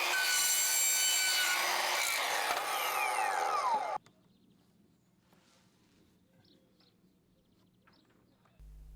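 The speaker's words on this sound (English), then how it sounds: "then I can get it cut on the mitre saw" A power mitre saw cuts through a plastic downpipe during garden room cladding work. It roars loudly for about four seconds, then cuts off sharply and winds down, leaving a quiet room.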